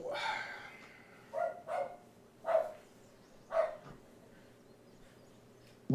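A pet guard dog barks in several separate loud outbursts at a home in the morning, with a pause between each, and someone talking in the background.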